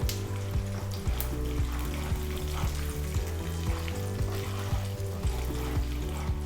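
Chana dal and grains roasting in a pan for homemade upma premix, a steady close sizzle with repeated scraping stirs and clinks throughout, no voices.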